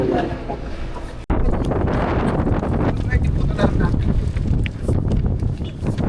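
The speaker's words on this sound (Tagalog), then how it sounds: "Windy." Strong outdoor wind buffets the microphone with a loud, continuous low rumble that starts after a brief cut near the beginning and persists to the end.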